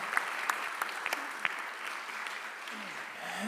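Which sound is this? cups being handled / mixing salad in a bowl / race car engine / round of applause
round of applause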